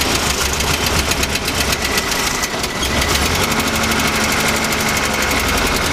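A car engine that has overheated runs steadily and loudly on a mountain road trip in Georgia, with a continuous droning hum and a faint knocking rattle throughout, and no voices.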